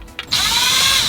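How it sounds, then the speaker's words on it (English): A power screwdriver backs T20 Torx screws out of a BMW iDrive unit, giving a short whirring start and then a steady high-pitched drill whine held close and loud. "Proceed to take out the 3 T20 Torx screws that hold the iDrive system into place."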